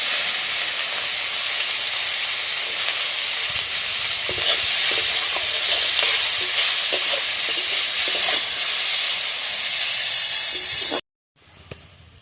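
Chopped onion and green chilli frying in a little oil for a village-style fish curry, a loud steady sizzle and hiss with occasional stirring scrapes, cutting off abruptly near the end.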